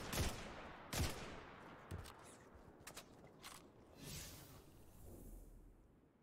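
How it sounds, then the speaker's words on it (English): Scout rifle fire in Destiny 2 comes as a few spaced single shots, about one per second, with mechanical clicks and faint background effects between them. "Scout rifle time."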